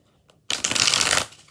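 A deck of playing cards is shuffled once in a tarot reading, a short dense riffle burst after a few quiet taps, close and clear with no talk over it.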